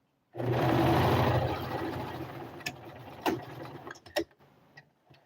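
A sewing machine runs on a shirt, a loud, close whirring burst that fades after a few seconds into scattered clicks and taps of the mechanism.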